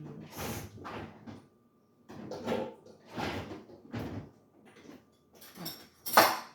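Cutlery and kitchen items clatter and clink in several irregular bursts as someone rummages through a drawer for spoons while cooking falafel, close and moderately loud, with short pauses between the handling noises.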